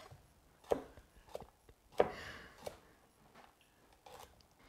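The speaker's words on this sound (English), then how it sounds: "you want to cut off the ends of here so that you can get the crunchiness of the actual crown" A knife trimming the stem ends off broccoli on a cutting board: a few separate, fairly quiet chops at irregular intervals, with no talking.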